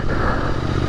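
Royal Enfield Continental GT 650 twin motorcycle with 15,000 km on it, started after two months parked indoors; a steady, loud engine drone that holds throughout with no talk.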